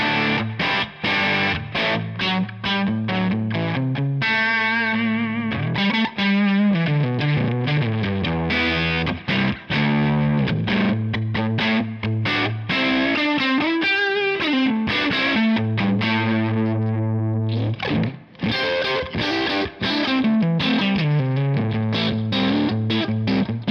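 Electric guitar played through TONEX amp captures at low input gain, a continuous distorted riff with chunky palm-muted low notes and sustained chords, loud and steady, no voices.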